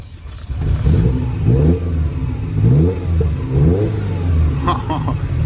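A carbureted V8 in a barn-find Ferrari 308 GTB revs hard in repeated rising bursts, loud and close, with a rough mechanical edge between each blip.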